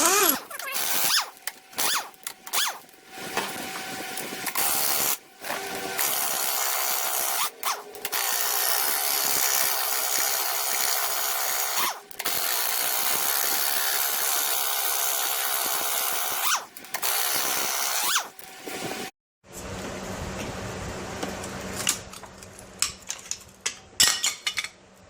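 Scraping and prying of a bottom fin repair piece off the gearcase of a 1973 Johnson 50 HP outboard, a long stretch of loud, gritty rasping and rubbing with brief gaps and a few sharp knocks near the end.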